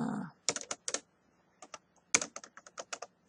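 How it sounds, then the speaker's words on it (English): Typing an email address on a computer keyboard into a Google Slides share box: two quiet bursts of light, crisp key clicks, a short run and then a longer one after a pause, with no talking. "I can type in that person's email address right here"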